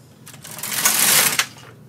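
The carriage of a Bond knitting machine slides across a row of needles, a brief close whirring clatter that swells and fades over about a second, with no voices.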